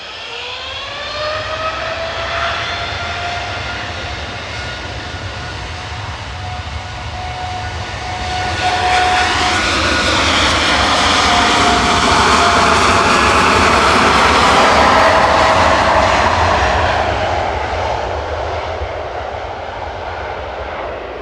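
A jet airliner at Manchester Airport turns onto the runway and powers up for takeoff, a whining engine tone giving way to a loud, broad roar that swells and then slowly fades.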